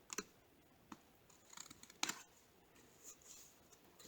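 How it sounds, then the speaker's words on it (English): Scissors cut a paper card flap in a few short, crisp snips spaced across the stretch, faint and close in a quiet room. "I'm going to cut this one because that's the flap that goes inside"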